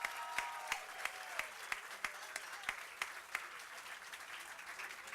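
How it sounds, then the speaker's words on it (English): An audience at a higher-education partnership awards event gives the students a round of applause, a broad crowd clapping with several sharp, distinct claps cutting through the steady patter; no talk rises above it. "Y'all give the students a round of applause"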